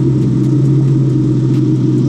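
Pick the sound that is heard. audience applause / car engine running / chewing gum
car engine running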